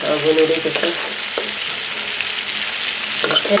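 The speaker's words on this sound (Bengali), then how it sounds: "ভাজাবো লাল লাল করে ভাজা ভাজা কত বড় বড় গলদা চিংড়ি" Large giant freshwater prawns fry in hot oil, a loud close sizzle with spattering crackles and several scraping stirs in the pan, continuous for the whole stretch without speech.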